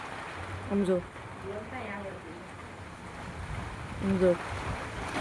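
A strong early-summer windstorm with no rain blows in Savarkundla, making a steady gusting rush and microphone buffeting while people talk over it at intervals.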